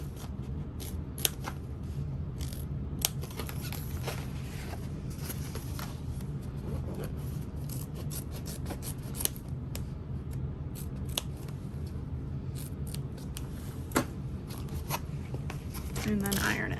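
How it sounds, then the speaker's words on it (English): Scissors snip fabric for a parachute-style knapsack in a series of sharp, close clicks spread across the stretch, set against a low steady background hum. "I'm gonna snip that"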